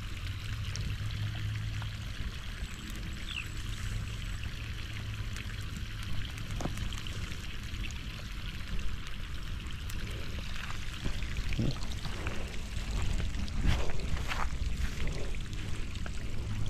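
Water poured onto a newly planted santol tree, a steady gushing pour with splashing and trickling against soil, continuous throughout, growing rougher and louder toward the end.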